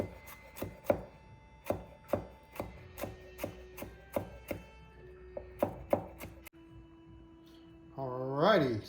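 A knife chops jalapeno on a cutting board in a steady run of about a dozen sharp close knocks, with a brief rustle at the end.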